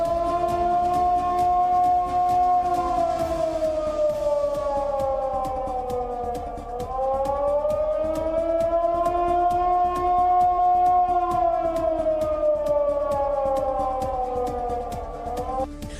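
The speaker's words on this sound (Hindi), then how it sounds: "फ्लाईओवर पर खड़ी गाड़ियां जोर जोर से हिलने लगी और सायरन बजना शुरू हो गया" A loud wailing siren sounds during an earthquake, rising and falling in long, slow sweeps, steady and continuous throughout with no voices.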